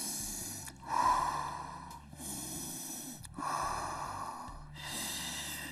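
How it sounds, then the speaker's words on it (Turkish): Steady breathing during a Pilates exercise, with several slow audible inhales and exhales, each lasting a second or two, close to the microphone over a faint background hum. "Nefes alıp vermeye devam."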